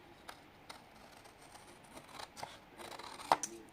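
Scissors snipping through fabric along a traced line while sewing a packaging pouch: quiet, close, scattered short snips with one sharper cut near the end.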